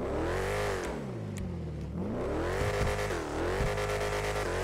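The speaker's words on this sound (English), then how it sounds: "this car does sound like a friggin' Formula One car" A sports car engine in GTA 5 revs hard and continuously, its pitch climbing and dipping through several surges with a high, Formula One-style whine.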